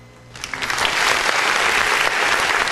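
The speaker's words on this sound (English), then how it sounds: "So give him a round of applause." Applause welcoming a new indie hip-hop artist swells in after a quiet start, then holds as dense, even clapping from a crowd.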